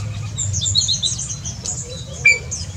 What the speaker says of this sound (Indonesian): Di musim-musim hujan ini adalah musim berkembang biak buat burung jalak Afrika ini atau Suwop Starling.